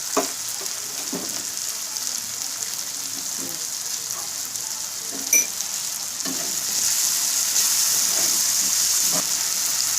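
Tomatoes and chilies frying in a pan for brinjal bhurta give a steady, close sizzling hiss with occasional scrapes of stirring. The sizzle grows a little louder toward the end, and no one speaks.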